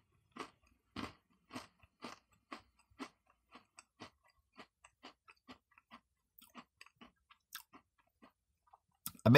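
Crunchy Oreo cookie pieces from a Shamrock McFlurry are chewed up close in a steady series of crisp crunches, loud at first and gradually softening and thinning out, with no talking.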